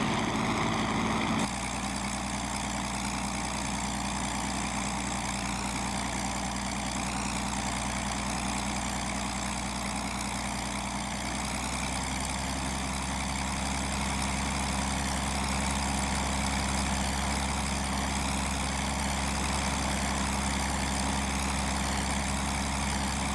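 A Curtiss P-40E Warhawk engine running with the propeller at 2,500 RPM, giving a loud, steady, droning roar that holds without a break and settles slightly lower partway through.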